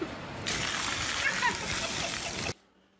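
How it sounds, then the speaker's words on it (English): Water splashing onto a kitchen floor, a loud burst of sloshing and splatter that runs for about two seconds and then stops abruptly, with voices nearby. "there's water all over the kitchen floor"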